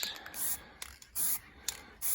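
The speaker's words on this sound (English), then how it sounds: "I'm going to give it a light spray." Metallic silver spray paint is sprayed onto an alloy wheel in short hissing bursts, about four, with faint rattles and scrapes of the can between them, close and fairly quiet.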